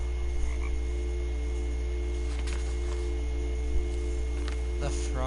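Frog croaking in the video game What Remains of Edith Finch, a faint, steady chorus under a constant game ambience, with a brief chirping burst near the end.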